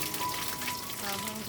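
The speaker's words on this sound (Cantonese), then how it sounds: "爆香啲蒜。" Garlic frying in a hot wok for soy sauce squid gives a steady, close crackling sizzle with a dense, even hiss throughout.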